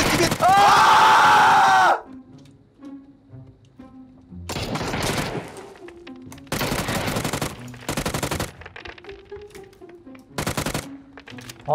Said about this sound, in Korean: 수류탄 형 수류탄 수류탄 간다 형